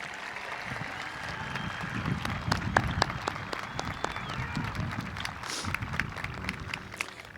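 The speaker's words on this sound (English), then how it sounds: "Audience, please join me in a round of applause for our entire graduating class." A junior high graduation audience claps for the graduating class, scattered, moderately distant applause with sharp individual claps and crowd murmur in a large room.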